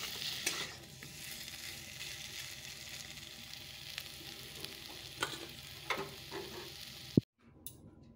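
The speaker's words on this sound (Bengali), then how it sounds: "তো চলো এবার মশলাটাকে একটু ভেজে নিই।" Spices and vegetables frying in a pan, a continuous close sizzle with intermittent stirring scrapes and clinks, ending in a sharp knock and sudden drop to near silence.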